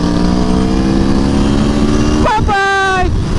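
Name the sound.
Aprilia Tuono V4 1100 Factory motorcycle engine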